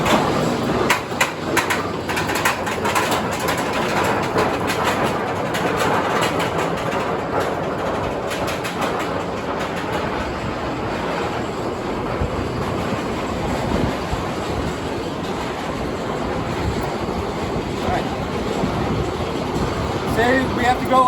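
A roller coaster train on its track at Busch Gardens Tampa's SheiKra rumbles and clatters loudly and continuously for about twenty seconds, with rattling wheel noise and squeals, heard close up.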